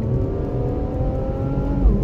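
A 2017 Infiniti Q60 fitted with an AAM 3-inch true exhaust pulls hard in third gear, a smooth, fairly subdued engine drone rising steadily in pitch, heard close from inside the car with no talking.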